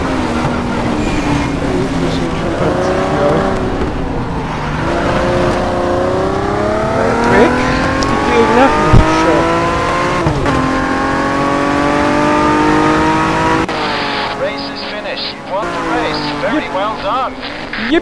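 A rear-wheel-drive retro Opel Commodore race car engine in the racing game RACE 07 at the Adria circuit revs and whines through shifting gears, rising and falling in pitch, with someone talking over it throughout.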